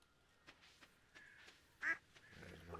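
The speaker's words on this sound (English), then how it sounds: "Ducks!" Ducks on a farm in Stardew Valley give a few faint, quick quacks, one call standing out clearly among quieter chirps against a soft game background.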